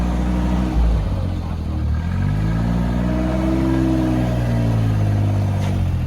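A Suzuki Jimny with no shocks fitted drives over rough ground, its engine droning and rising in pitch under steady rumbling road noise, loud and close from inside the vehicle.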